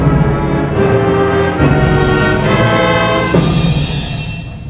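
An ominous musical theme representing Godzilla, played at a school music concert, rings out as loud sustained low tones with rich harmonic layers, swelling and shifting over several seconds.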